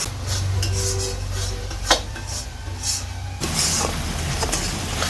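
Spice masala being stirred and fried in a pan while cooking a Bengali chicken fry curry, with steady scraping and clinking of a utensil against the pan over a constant low hum, one sharper clank midway.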